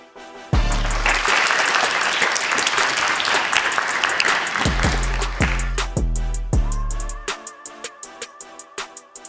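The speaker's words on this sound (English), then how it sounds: "please give a round of applause for Chancellor David Banks" An audience at a live podcast event applauds Chancellor David Banks: loud, dense clapping sustained for several seconds over booming bass hits of background music, then thinning out toward the end.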